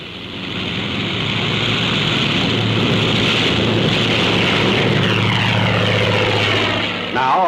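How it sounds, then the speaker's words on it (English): A 1945 carrier plane roars through a takeoff on propeller thrust alone, its engine and airscrew drone swelling quickly and holding loud and close throughout, with the steady rumble fading slightly at the end. "A carrier plane takes off relying solely on propeller thrust."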